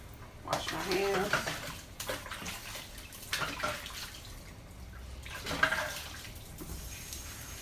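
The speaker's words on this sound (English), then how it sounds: "Wash my hands." Running water from a kitchen tap splashes in bursts while hands are washed during meatloaf prep, with a voice talking over it.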